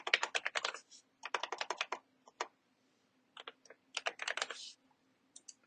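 Computer keys clatter in quick, close bursts of typing with short pauses between runs, crisp and fairly quiet against a silent background.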